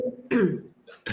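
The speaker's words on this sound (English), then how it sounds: "I'm still coughing" One or two rough, throaty coughs break up quiet moments, close and fairly loud, from a person who is still unwell during a casual conversation.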